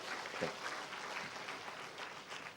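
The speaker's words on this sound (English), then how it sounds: "Let's give her a big clap of appreciation." Audience applause in a university hall at the close of an inaugural professorial lecture, a steady crackle of many hands clapping throughout, fairly faint and distant.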